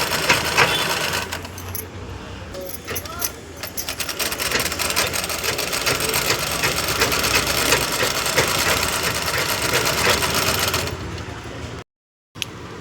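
A sewing machine runs continuously and close while stitching a saree, its fast rattling mechanism steady for several seconds before a brief stop and restart.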